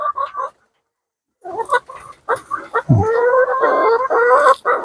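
Chickens cluck inside a low-cost, homemade hen coop: a few close clucks, a brief silence, then busier, overlapping clucking and calls nearby.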